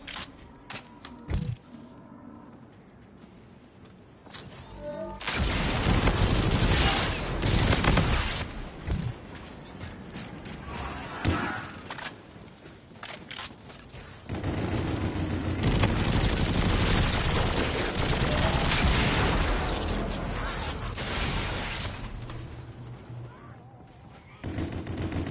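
Rapid bursts of video-game automatic gunfire with heavy recoil, loud crackling volleys broken by brief pauses and scattered single shots, dense and close.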